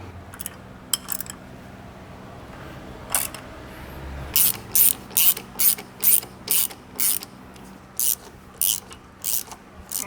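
A ratchet tightens the diff drop bolts on a Toyota LandCruiser LC200. A few scattered clicks come first, then steady, rhythmic bursts of sharp ratcheting close by, with no talking.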